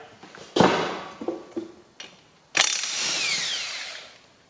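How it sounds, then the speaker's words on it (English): A socket tool works on bolts of a Ferguson TE20 tractor's belt pulley, with a short sharp burst followed by a longer, loud rattling whine that slowly fades, close by. "find the appropriate socket, and see if she wants to give it a rattle"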